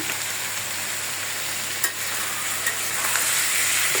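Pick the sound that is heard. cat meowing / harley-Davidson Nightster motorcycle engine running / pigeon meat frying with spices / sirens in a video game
pigeon meat frying with spices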